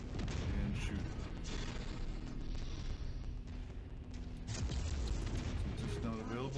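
Mech weapons in MechWarrior 5 fire continuously in dense, heavy booming volleys, loud and unbroken, with a voice talking over the battle.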